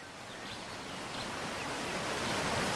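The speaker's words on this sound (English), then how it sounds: "It's just a waterfall." A waterfall rushes in a steady, broad roar of falling water that holds constant and swells slightly louder over a few seconds, with no talking.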